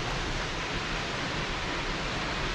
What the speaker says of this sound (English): from the sound of the waterfall